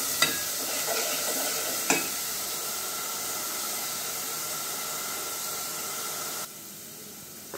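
Onions sizzle in hot oil in a home kitchen pan, a steady close hiss with a couple of sharp clicks from stirring, fading slightly near the end, with no talk.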